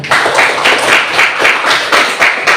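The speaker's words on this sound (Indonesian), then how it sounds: "Kita berikan tepuk tangan dulu." A crowd claps together in steady rhythmic bursts, loud and close, with no talking.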